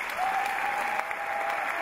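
Steady audience applause at a Congolese government event launching a new national wage policy, even continuous clapping heard at moderate distance with a faint tone running through it.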